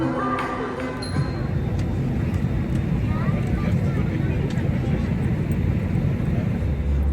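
An airplane flying into Suvarnabhumi Airport in Thailand gives a steady, loud cabin roar throughout, with voices talking faintly over it.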